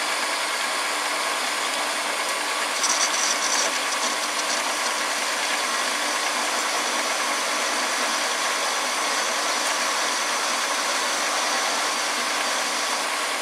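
A homemade lathe parting off metal with a factory-made cutting tool: a continuous loud, even grinding whir of the cut with faint chatter, steady throughout and with no talking.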